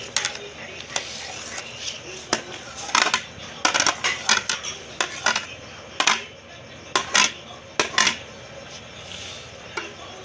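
A spoon mixes jellies and fruit in a bowl in a Pakistani village kitchen, producing scattered bright metallic clinks and scrapes in irregular bursts, with faint voices in the background.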